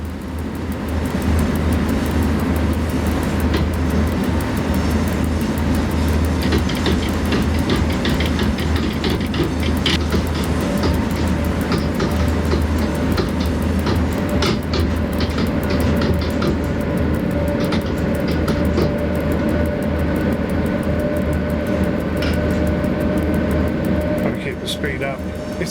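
A train in the SimRail simulator runs with a harsh, continuous grinding roar of rail and engine noise, steady and loud for the whole stretch, with no talking.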